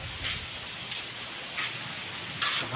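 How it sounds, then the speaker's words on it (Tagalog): Heavy rain falls in a steady, even hiss outdoors, with a few brief brighter bursts of spatter; no talking is heard. "Lakas talaga ulan, oh."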